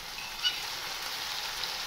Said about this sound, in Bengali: পেঁয়াজটাকেও আমি 1 মিনিট ভেজে নেব।